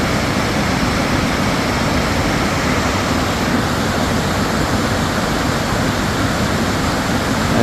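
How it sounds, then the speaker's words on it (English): Water flowing strongly in a stream or small waterfall, a dense, steady rushing wash that stays loud and close throughout with no voices. "That water's flowing pretty good."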